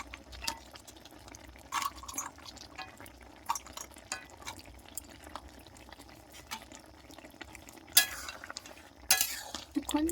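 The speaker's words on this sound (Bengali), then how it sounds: "এবার আমি ভেজে রাখা বড়িগুলো এর মধ্যে দিয়ে দেবো।" Fried bori being tipped into a pot of boiled pumpkin for a sour fish curry with mango, giving soft wet stirs and drips at low level, with a few sharper clattering bursts near the end, close by and without talk.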